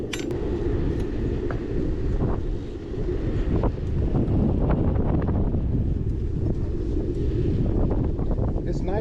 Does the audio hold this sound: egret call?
no